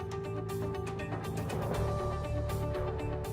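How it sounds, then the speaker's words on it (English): Fixing elements of a Blanco granite sink are loosened with a rapid ratcheting click, a steady close mechanical chatter that runs throughout. "Now loosen the fixing elements and lift the sink out of the cutout again."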